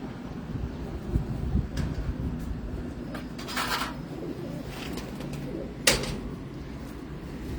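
Low, rolling coos of pigeons kept in a home loft carry on steadily, broken by a few sharp clacks and one louder knock near the end, all close by with no talk.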